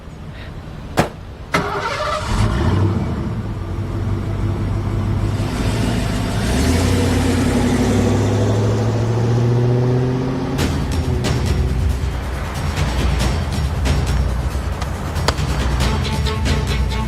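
A car engine catches after a brief click, then rumbles steadily and builds as the vehicle revs and pulls away, with a loud, continuous low drone and rising engine tones and no talking.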